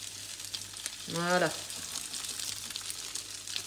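Grated potato rösti frying in a pan, a soft steady sizzle running underneath a brief spoken word from a cook.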